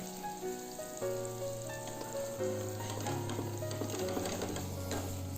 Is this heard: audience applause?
no